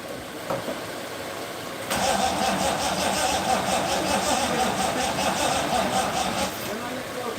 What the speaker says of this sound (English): I can hear the engine try and fire